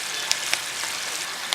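Onions frying in oil give a steady, even sizzle with a few small sharp pops, close and alone.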